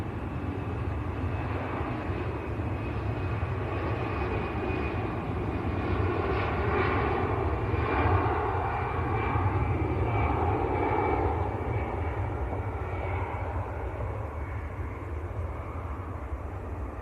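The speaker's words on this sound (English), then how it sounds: "Aer Lingus is on the roll as well, going to Dublin." An Aer Lingus airliner rolls for takeoff at Manchester Airport, a steady, loud jet engine roar with a whining tone that swells slightly in the middle and holds broadly throughout, with no talk over it.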